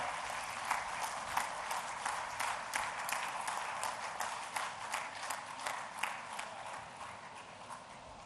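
An audience applauds for the President at a heart and cancer hospital foundation-stone ceremony, rhythmic sustained clapping from a crowd that carries steadily and fades slightly toward the end.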